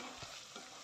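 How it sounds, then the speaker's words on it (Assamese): Coriander and cumin powder frying in a pan while being stirred, a steady close sizzle with two soft scraping strokes of the spoon, no voices. "মছলাখিনিও ভাজি ল'ম"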